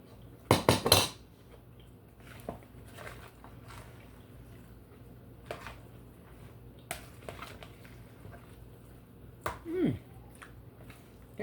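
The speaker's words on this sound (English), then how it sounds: "We're gonna put some more in the bowl with the big spoon." A big spoon scoops food with red onions into a bowl, giving a few short clinks and scrapes of utensil on dish, loudest near the start and again later, spaced by quieter stretches.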